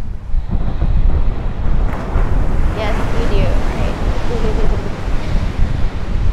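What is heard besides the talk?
ocean waves and wind at beach, Maui, Hawaii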